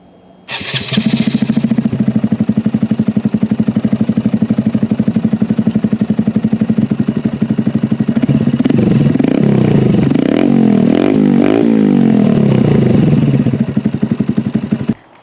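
A Honda Grom motorcycle fitted with an Aodonly racing exhaust starts up close by and settles into a loud, steady idle, then revs in several rising and falling blips before cutting off.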